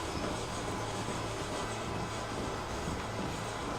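A train engine rolls along in the Red Dead Redemption video game: a steady, dense rumble and hiss with no pauses and no voices.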